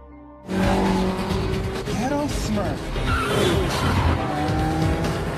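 Race cars in a street race in an action film roar past with revving engines and squealing tires, over a dense mix of skids and engine noise, with a voice talking over it.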